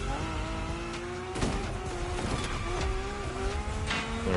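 A car drifts in The Crew Motorfest racing game, its engine droning steadily while tires squeal and skid in long wavering tones, with brief thumps along the way.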